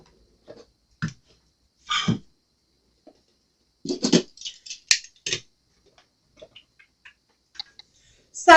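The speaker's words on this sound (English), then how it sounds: "While I'm waiting, I'm going to cut some mesh." Scissors cut decorative drift mesh in a quiet room: a few sharp, separate snips and crisp rustles spaced irregularly, close and clear against silence.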